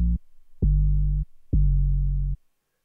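Three sustained 808 bass notes from a Serum preset, programmed for a beat in FL Studio, with deep booming tones that each hold for roughly half a second to a second, loud and alone, separated by short gaps.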